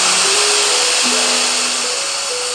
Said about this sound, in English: when you click like the airflow control, it'll let you, go from low, medium, or high